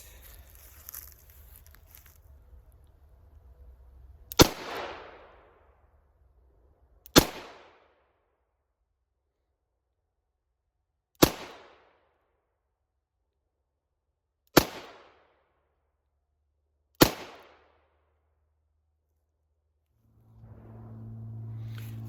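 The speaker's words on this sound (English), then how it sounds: "Arms Bulldog 44 Special. First ever shots with it." Five loud, sharp revolver shots from a Charter Arms Bulldog .44 Special, each a sudden crack with a short decaying ring, spaced a few seconds apart over faint outdoor background.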